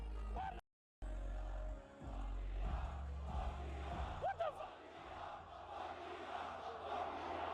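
A festival crowd at Rolling Loud boos a streamer who has come on stage during a rapper's set. It is a loud, dense, sustained roar of many voices that cuts out briefly near the start and then resumes.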